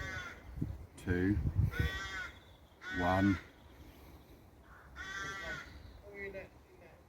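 Crows caw near a canal, a few rough calls breaking in between short bursts of nearby conversation.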